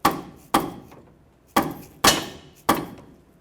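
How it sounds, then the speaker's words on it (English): Rubber mallet striking a wrench seated on the inner tie rod of a 2009-2014 Ford F-150: five sharp, close, loud thuds at uneven intervals, each with a brief ringing decay, no talk. "Hit it with a rubber mallet."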